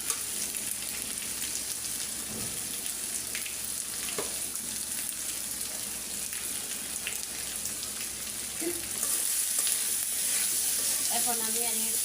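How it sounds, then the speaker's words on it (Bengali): Turmeric, ground coriander, cumin and salt sautéing in hot oil for a mixed five-lentil and vegetable dal, a steady loud sizzle throughout with occasional stirring scrapes, the frying growing brighter near the end. "এখন আমি আর একটু ভালো করে কষায় নিব।"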